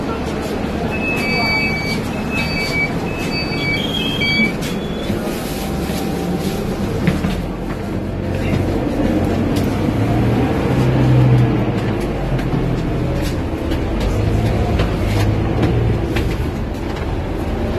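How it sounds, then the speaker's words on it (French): Riding inside a free city bus in Kuala Lumpur heading to KLCC: a continuous engine drone and road rumble, a few electronic beeps early on, with people talking over the ride. "là j'ai pris le bus vers KLCC"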